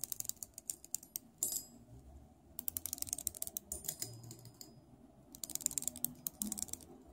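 Bezel of a Seiko SBBW047 watch being turned, giving quick runs of crisp, faint ratcheting clicks in three separate bursts, close up in a quiet room.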